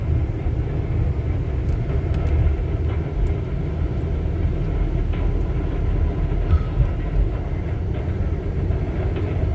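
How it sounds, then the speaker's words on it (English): A snowplow truck with a salter sander plowing the next lane as it drives down the road, heard as a steady low rumble and roar that never lets up, loud and close, with no talk. "It's riding in one, plowing the lane next to it as it rides down the road."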